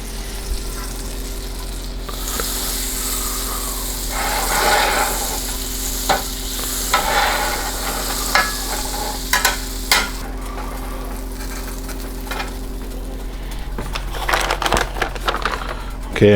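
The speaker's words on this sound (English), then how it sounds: "we're going to go ahead and put the butter in. Give that a few seconds to melt." Butter melting and sizzling in an oiled pan, a steady broadband fry hiss that swells and fades over several seconds, with scattered sharp pops and light crackles toward the end and a low constant hum underneath.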